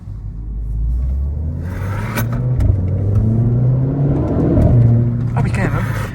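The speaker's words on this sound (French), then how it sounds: "C'est drôle comme on entend vraiment la pression du turbo." A Renault Clio 4 RS driven in race mode, its turbo engine droning and building pressure as it accelerates, loud rumble with rising tones inside the cabin, while people talk over it.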